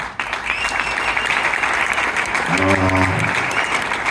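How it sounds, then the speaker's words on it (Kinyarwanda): Steady, dense applause from a crowd fills the whole stretch, with a voice briefly speaking over the clapping toward the end. "Amashyi menshi cyane."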